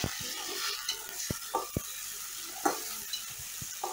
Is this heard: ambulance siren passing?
no